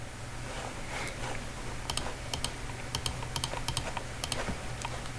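Keys on a computer keyboard are tapped close up in quick, uneven bursts of crisp clicks as a captcha is entered, over a faint steady hum; no talking.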